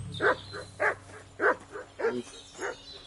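A dog barks in the video game Kingdom Come Deliverance 2, giving about six separate barks at a steady rhythm over a low background hum, fairly close.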